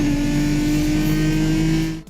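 A twin-turbocharged inline-six engine drones steadily at high revs in a Need for Speed racing game, a loud sustained tone that holds for about two seconds before cutting off abruptly.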